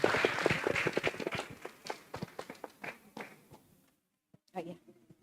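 Audience applause at a university lecture hall session, a burst of hand clapping that dies away after about four seconds, then a short patter of a few last claps.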